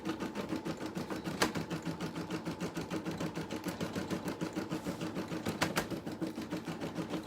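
An embroidery machine stitches on a straw item with a steady, fast mechanical rattle of needle strokes that runs throughout, fairly quiet and close, with a couple of brief sharper clicks.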